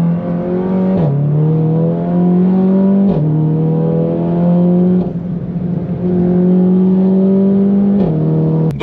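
A 405-horsepower Seat Leon Cupra stage 2 pulls hard from inside the cabin, its loud droning engine note climbing steadily through each gear and dropping sharply at the shifts, about four times.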